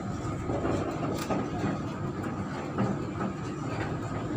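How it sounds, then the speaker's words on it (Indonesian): A long-distance train rumbles along the rails in a steady, loud, close roar with faint clickety-clack, heard without talk. "kereta api jarak jauh nih"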